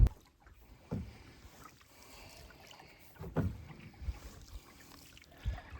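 Canoes being put into the water before a camping trip, with a few soft knocks and splashes over quiet outdoor background and light wind.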